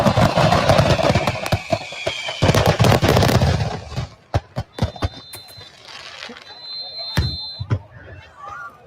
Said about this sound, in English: these fireworks went off yesterday in Maryland